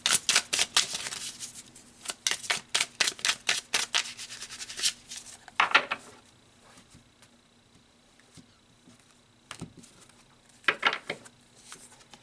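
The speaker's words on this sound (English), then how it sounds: "So let's pull some tarot cards." Tarot cards are riffled and shuffled in quick crisp bursts, then pulled from the deck with a few brief flicks and slaps, close and fairly quiet in an otherwise still room.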